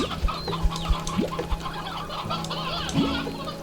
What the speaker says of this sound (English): Older hen, an old bird whose egg-laying days are over